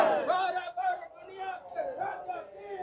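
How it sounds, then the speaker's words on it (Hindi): A large crowd at a Palm Sunday procession at Jhirpani parish in Rourkela, with a horse standing in for the donkey, raises loud shouting and cheering voices that rise and fall close by. "देख सकते हैं कितना ज्यादा भीड़ है।"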